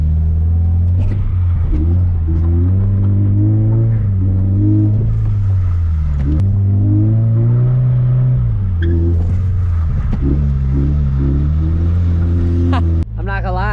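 A drift car revs hard in a wet, slick parking lot, its engine rising and falling in loud, close bursts with repeated throttle blips and gear changes, rumbling steadily for the whole stretch.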